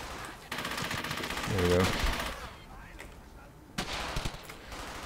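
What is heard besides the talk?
gunfire in the video game Brothers in Arms: Hell's Highway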